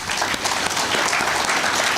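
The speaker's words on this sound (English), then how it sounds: "We can all clap hands and say welcome." Audience at an African Plant Breeders Association gathering clapping in welcome, steady dense applause filling the room for the full two seconds with no voices over it.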